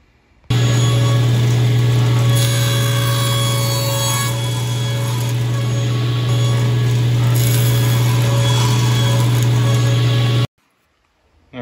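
An electric saw cuts a wooden piece for a floating shelf, a loud steady motor hum with rasping blade noise starting abruptly, running about ten seconds, then stopping before a brief restart.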